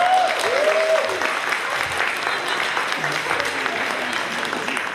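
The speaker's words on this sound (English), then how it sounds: "Give Brendan a round of applause," An audience at the AliCon 2019 convention panel bursts into steady, close clapping, sustained throughout, with a few brief voices and cheers threaded beneath the applause.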